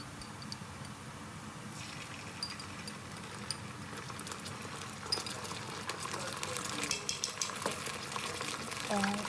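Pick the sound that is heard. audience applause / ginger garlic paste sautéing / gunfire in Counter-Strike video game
ginger garlic paste sautéing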